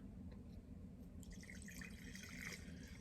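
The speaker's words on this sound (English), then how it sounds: "I'm pouring myself my alcoholic beverage" Cheap port wine poured into a glass indoors, a faint trickle and splash of liquid over low room hum, with no talking.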